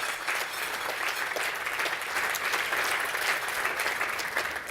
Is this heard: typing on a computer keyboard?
no